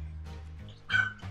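Several dogs bark and yip in a home kitchen during Veracruz-style fish cooking, short sharp yelps rising to a louder burst near the end, close by with no talk over them.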